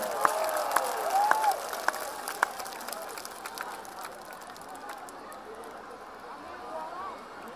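At a big outdoor political campaign rally, a large crowd breaks into applause and cheering, a dense crackle of claps with a few sharp whistles that slowly fades.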